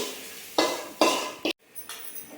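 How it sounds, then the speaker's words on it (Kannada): Okra being stir-fried in a pan, with a few distinct metallic scrapes and clatters of a spatula against the pan followed by a soft sizzle, close and fairly loud. "ನೋಡ್ರಿ ಬೆಂಡೆಕಾಯಿ ಹುರ್ಕೊಳ್ಳೋದು ಫ್ರೆಂಡ್ಸ"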